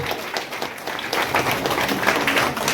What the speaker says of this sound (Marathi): जोरदार टाळ्या वाजवा जोरदार टाळ्या होते